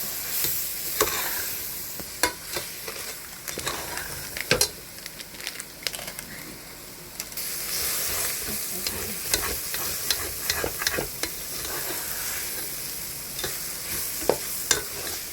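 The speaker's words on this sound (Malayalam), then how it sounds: "എല്ലാം കൂടി ചേർത്ത് വഴറ്റുക. നന്നായി എടുത്ത് യോജിപ്പിക്കുക." Ground spices sautéed in a hot pan, with a constant loud sizzle and repeated sharp spatula scrapes and knocks as the mixture is stirred, close and steady without any talking.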